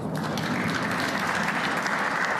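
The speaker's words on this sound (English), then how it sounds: "So, applause for Mark Williams' first red." Crowd applause at a professional snooker match, Coral Northern Ireland Open, fills the hall as dense, steady clapping from a large audience throughout.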